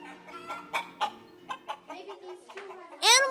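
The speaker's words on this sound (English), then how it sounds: "Animals were quite a surprise, since Miss Kelly brought in her own chickens in a cage." Chickens cluck close by in short, irregular bursts, ending with a louder, drawn-out squawk.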